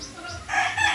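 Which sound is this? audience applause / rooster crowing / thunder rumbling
rooster crowing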